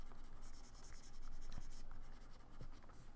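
A pencil shades on paper in short strokes, a soft, continuous dry scratching with a few slightly firmer strokes, faint and close.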